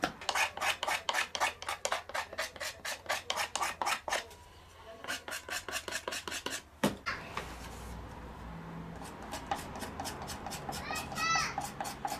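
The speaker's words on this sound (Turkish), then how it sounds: "İnce işçiliklerini kaşığımızın son rutuşlarını yapıyoruz." Rhythmic rasping strokes of a hand rasp shaping a wooden spoon in a woodworker's shop, steady and close, pausing midway before lighter scraping resumes, with children's voices faintly in the background.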